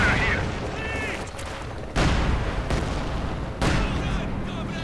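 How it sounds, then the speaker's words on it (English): Anti-tank grenade and other battle blasts in Company of Heroes 2, sharp booms landing at roughly two-second intervals over a constant rumble of gunfire and game noise, with a commentator talking over it. "And there we go, anti-tank grenade."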